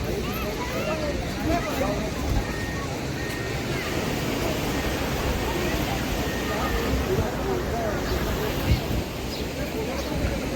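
Sea waves at Kunkeshwar beach on the Konkan coast of Maharashtra, a steady close roar of surf with wind and faint crowd babble and voices underneath, unbroken throughout.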